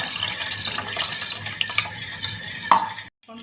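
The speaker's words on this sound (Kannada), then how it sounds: "ಸ್ವಲ್ಪ ನೀರು ಹಾಕಾಕ್ತೀನಿ ರೀ," Water is poured into curd to thin it into buttermilk for majjige sambar, giving a steady close splashing and stirring sound with faint clinks of kitchenware, ending abruptly in silence.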